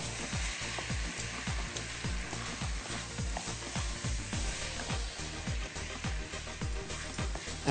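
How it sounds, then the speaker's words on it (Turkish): Vegetables and small-diced potatoes sautéing in a pan, a steady sizzle broken by repeated stirring scrapes and clinks in a regular rhythm, close up with no talking. "Evet şöyle sebzemiz kavrulurken"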